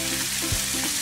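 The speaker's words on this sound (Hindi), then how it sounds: "हमें इसमें शिमला मिर्ची डालना है। हमें इसे 1 मिनट तक पकाना है।" Capsicum fries in a pan with a dense, close sizzle and a soft thump of stirring partway through.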